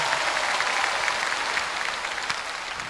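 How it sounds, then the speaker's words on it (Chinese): Broad, steady audience applause fills an ice show arena for a two-time world champion pairs figure skating couple, holding loud and even throughout before easing slightly near the end. "再次掌声。"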